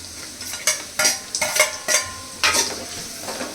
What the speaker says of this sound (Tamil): நான் இன்னும் கொஞ்சம் வெங்காயம் ஆட் பண்ணிக்கிறேன்